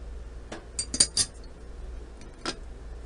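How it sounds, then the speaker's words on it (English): A utensil mixes mozzarella, parmesan and eggs in a mixing bowl, giving a few scattered metallic clinks and scrapes against quiet background, clustered early with one more tap later. "all you do is mix everything together. Mozzarella, parmesan, and the eggs."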